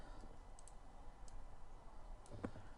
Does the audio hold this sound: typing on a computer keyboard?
yes